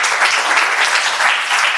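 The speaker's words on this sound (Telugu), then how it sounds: "గట్టిగా చప్పట్లు కొట్టండి" A church congregation at a pastor's sermon claps together, a loud dense wash of many hands applauding steadily for the whole short stretch.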